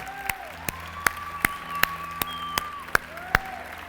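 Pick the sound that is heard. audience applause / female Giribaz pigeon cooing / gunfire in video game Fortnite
audience applause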